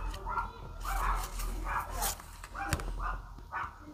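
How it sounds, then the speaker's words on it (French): Several small dogs bark and yip outdoors in a short series of sharp bursts, moderately close, with a voice talking over them. "Il y a des petits chiens dehors"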